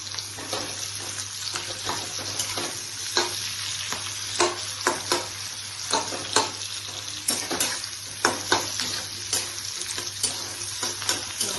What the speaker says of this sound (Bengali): এভাবে সব আমি ফ্রাই করে নেব।